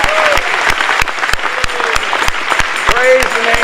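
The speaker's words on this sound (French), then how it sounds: "give the Lord a big hand" A church congregation bursts into loud, continuous clapping that fills the room steadily, with voices calling out over the applause.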